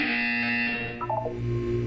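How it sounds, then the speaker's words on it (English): Short electronic buzzer tone in the video game Portal 2, harsh and synthetic, dropping into a few quick beeping notes. "When you hear the buzzer, look up at the ceiling."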